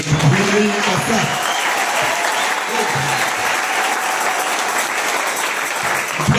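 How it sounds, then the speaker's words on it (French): A church congregation claps continuously during a Sunday morning service, a full, even wash of applause that holds steady throughout, with voices murmuring underneath. "Si nous pouvons d'abord acclamer pour la parole."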